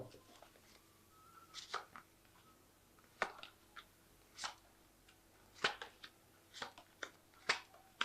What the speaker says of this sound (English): So I'm just going to draw some cards from this deck.